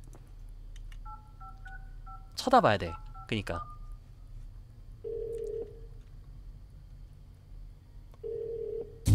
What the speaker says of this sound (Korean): 지금 부모님께 전화해야겠어요.